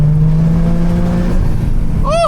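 A Toyota GR Corolla engine and exhaust drone steadily and close while the car is driven on back roads, with a sharper rising note breaking through right at the end.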